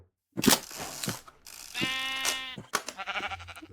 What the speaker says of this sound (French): Oh, vas-y, un mouton, ça marche aussi.